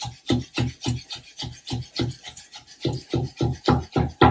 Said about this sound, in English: let's cut it in half this way. And we're going to make nice, beautiful little strips out of this pepper